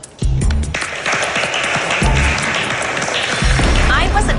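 Applause bursts out in a dance studio, a dense wash of clapping that holds steady throughout, with voices talking over it.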